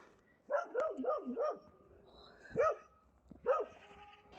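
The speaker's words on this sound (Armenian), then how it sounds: "այսօր հաչում այն բոլորի վրա" A dog barks nearby in a quick burst of four yaps, then pauses and lets out two more single barks, barking at everyone around it near a cow.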